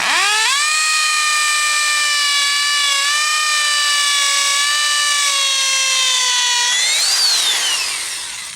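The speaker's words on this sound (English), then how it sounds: "So we're just going to drill it in." A power drill whirs with a steady high whine, driving screws into wood while installing a basement door, spinning up at the start and briefly shifting pitch before winding down at the end.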